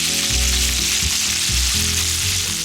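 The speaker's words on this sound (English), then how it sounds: "You wanna let that oil warm up before you add your bacon. You should hear it sizzle." Bacon sizzles loudly and steadily in hot oil in a frying pan, a constant close-up crackle with a low hum running underneath.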